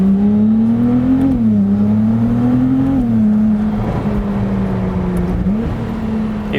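Supercar engine revving loud and close in second gear between about 3,000 and 4,000 rpm, pitch rising and falling in steady surges with small pops and crackles on the overrun, no talking.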